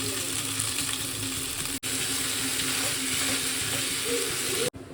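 Chow mein fries in a pan with a steady, close sizzling hiss that runs throughout, broken by two abrupt dropouts.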